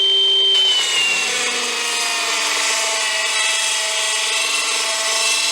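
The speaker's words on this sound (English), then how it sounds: "As soon as the blade finishes its cut, it then senses it and it will stop the blade straight away" A Milwaukee power saw finishes cutting through metal, its blade whining and rasping briefly before the cut-brake system stops it, leaving a steady high motor hum close by with no talk.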